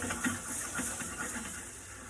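Soy sauce fish with broccoli cooking in a pan, giving off a steady hiss of steam and gentle sizzling that holds moderately loud and unbroken throughout, with faint crackles and no voices.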